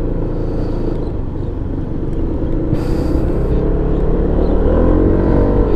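A Zontes 310M motorcycle pulls away behind a car in slow traffic at around 30 km/h, its engine a steady, close, loud drone that builds gradually, accompanied by wind rumble.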